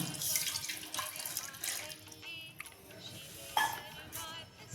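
A glass of water pours into a pressure cooker pot holding chickpeas, bay leaf, cumin and salt, giving a close, steady splashing stream with a brief clink.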